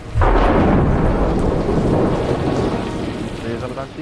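Thunder from a lightning strike booms and rolls loudly over steady rain, starting abruptly and fading slowly across the whole stretch.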